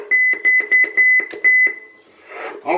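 A series of about seven short electronic beeps from an Alan 8001 radio in quick, uneven succession, fairly loud, followed by a brief burst of noisy rustle.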